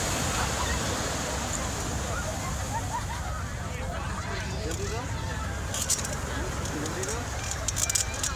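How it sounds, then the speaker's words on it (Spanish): Surf washing onto Ipanema beach at Posto 8 in Rio de Janeiro, where the sea is a little choppy with more waves; a steady broad rush of water fills the clip, with faint voices in the background. "el agua o el mar está un poquito más picado, hay un poco más"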